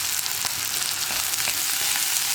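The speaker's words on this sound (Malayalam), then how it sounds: "അപ്പോൾ ഇനി സവോള നന്നായിട്ട് വഴറ്റിയെടുക്കണം" Sliced onions sauté with salt in a hot pan for a Kerala-style kadala curry, giving a steady, dense sizzle with faint stirring scrapes, close and continuous with no talking.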